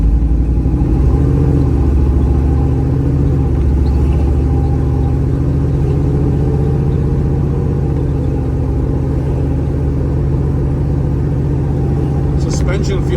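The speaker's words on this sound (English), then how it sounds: "Motor got a good temperament." A 1967 Chevrolet Camaro with a 396 engine rumbles while driving, a loud, deep, steady engine drone with road noise that stays close and constant, and someone talking briefly over it.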